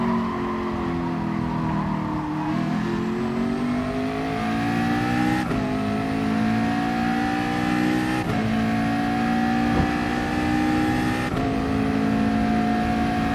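A race car in a racing video game drives hard through a turn, its engine note climbing and dropping through repeated upshifts in a continuous, loud whine with no talk over it.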